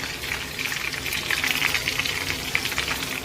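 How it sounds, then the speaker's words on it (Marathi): Garlic and chili paste sautéed in a pan, giving a steady, close hiss and crackle of frying with faint stirring under it, unbroken and fairly loud throughout. "लसूण आणि मिरचीची पेस्ट घालूया. छान अशी परतून घेऊया."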